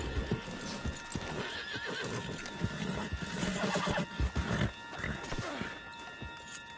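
Horse hooves clip-clopping at a run in Red Dead Redemption 2, with whinnies and neighs cutting through the steady hoofbeats and a low ambient bed.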